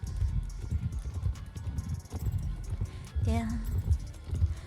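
Hooves of an Arabian horse clip-clop in a steady rhythm close by, mixed with low thuds and movement, while a person talks briefly over them.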